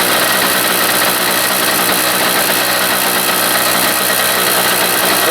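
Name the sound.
Harbor Freight generator engine running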